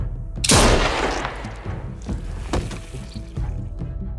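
A single loud gunshot in The Walking Dead Telltale game, with a sharp crack and a long decaying tail. Fainter thuds and shots follow over a low background.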